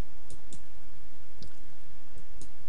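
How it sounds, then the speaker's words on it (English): Several sharp, close computer mouse clicks spaced unevenly over a constant background hiss, with no talking. "I click OK."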